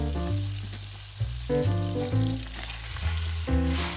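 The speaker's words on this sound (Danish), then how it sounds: "Og nu skal den brunes på alle sider." A whole chicken browns in a pot for pot-roasting, giving a steady loud sizzle and spatter with repeated bursts as it settles against the hot metal, with no voices.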